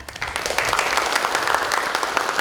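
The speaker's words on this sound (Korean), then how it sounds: "한 분 한 분 큰 박수로 맞아주십시오." Loud, dense applause from the audience at the launch ceremony of a provincial immigration policy committee, a steady, full wash of many hands clapping together without a break.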